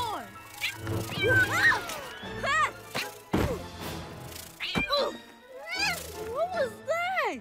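A small cartoon Tuca kitten creature gives a string of squeaky, sliding meows and chirps, close and fairly loud over background music and cartoon voices talking.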